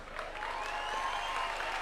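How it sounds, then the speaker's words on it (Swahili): Audience at a State House gathering of UDA party aspirants applauds governor aspirants, steady dense clapping from a large crowd filling the space throughout. "simama tukupige makofi"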